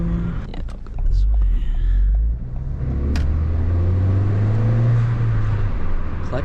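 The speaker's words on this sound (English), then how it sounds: "it's a 2-liter turbo with the EJ20Y, and it makes 280 horsepower" A Subaru turbo hot hatch with a 2-liter EJ20Y turbo engine making 280 horsepower accelerates from inside the cabin, a loud deep engine rumble rising in pitch through gears with a brief drop between.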